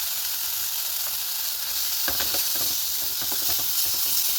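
Ground cumin and chilli powder sautéing in a pan for a Bengali prawn malai curry, a steady hiss with sharper crackles and scraping stirs breaking through over the last half.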